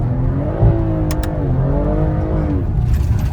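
BMW M340 engine revving hard while drifting sideways, a loud, steady roar with rising and falling pitch sweeps, tires and exhaust close and continuous throughout.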